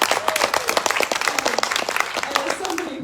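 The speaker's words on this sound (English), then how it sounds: "you can clap for that, sure" A crowd at a political event with a politician applauds steadily, dense clapping filling the space for a few seconds with a faint murmur of voices underneath.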